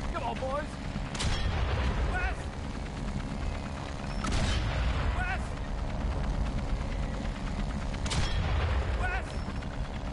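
In Valiant Hearts: The Great War, a World War I video game, three loud shots ring out a few seconds apart over a rumbling battlefield backdrop, with voices mixed in.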